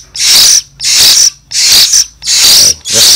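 A young hill myna in Vietnam gives five loud, harsh screeching calls in a regular rhythm, each about half a second long with short gaps between, very close and dominant.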